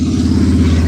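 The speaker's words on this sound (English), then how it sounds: "The loud motorcycle go by." A loud motorcycle passes close by on a road, its engine giving a steady, throaty drone in a very brief burst.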